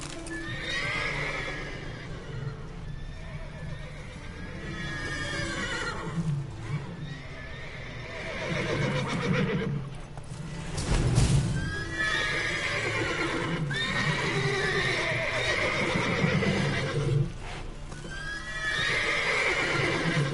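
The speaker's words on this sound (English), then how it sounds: "Joder, cuánto caballo." Horses in the video game The Witcher 3 neigh and whinny again and again over clip-clopping hooves, with the game's ambient sound running steadily underneath.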